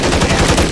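Rapid burst of video game gunfire during a Search and Destroy match, loud and close, with dense overlapping shots packed into under a second and no talking.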